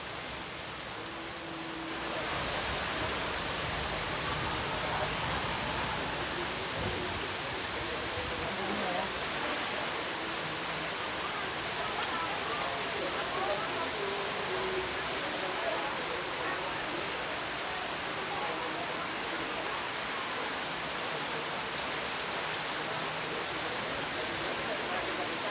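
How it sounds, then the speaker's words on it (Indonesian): A heavy rainstorm with strong wind lashes Ancol on the coast, producing a dense, steady hiss of pouring rain and gusts that stays broad and unbroken after a quieter opening. "Ancol hujan gede."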